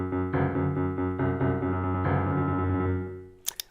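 A two-bar straight trap loop at 140 bpm plays back on a piano sound in BandLab, loud sustained chords with rhythmic repeated notes that fade near the end before a couple of brief clicks.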